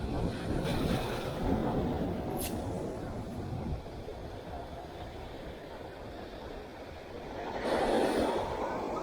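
Ocean surf breaks at Surfside Beach in Miami, Florida, a soft, wind-buffeted wash rolling in and swelling again near the end, heard at low level with a faint gust of wind on the microphone.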